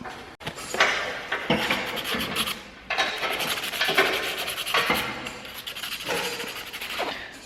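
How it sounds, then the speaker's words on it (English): Painted car parts from a Subaru BRZ are scuffed by hand with sandpaper, making close, repeated rasping strokes in bursts with brief pauses between passes. "I'm gonna scuff them up a little bit with sandpaper and then just paint them over"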